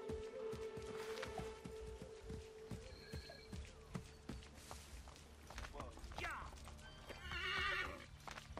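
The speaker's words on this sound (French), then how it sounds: "les chevaux sont bizarres à contrôler" In the Assassin's Creed 3 video game, a horse gallops with steady clip-clop hoofbeats and lets out several sharp whinnies. Someone talks at times alongside the game sounds.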